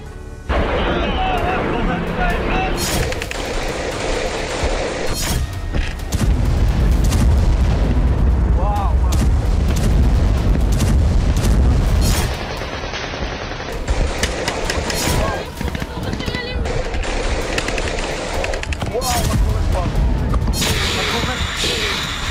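Missile and rocket strikes hit cities, with repeated loud booms and blasts arriving in bursts, and chaotic rumbling between them.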